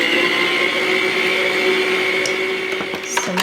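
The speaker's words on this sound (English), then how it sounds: "on the mixer and let that go around. Because my mixer is noisy" Electric kitchen mixer whirring steadily as it mixes muffin batter with orange juice, a loud continuous motor drone with a few faint clinks near the end.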